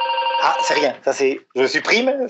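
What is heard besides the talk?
telephone ringing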